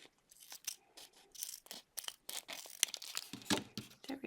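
Scissors snip and cut close by, with crinkly paper and plastic handling sounds in a quick, irregular series of short strokes.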